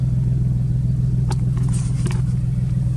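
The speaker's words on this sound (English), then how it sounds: "We're just gonna go for a quick drive," Idling engine of an old Geo Metro with a manual transmission, run up to temperature after sitting for years, gives a steady low rumble throughout, with a few faint higher clicks and knocks over it and no talking.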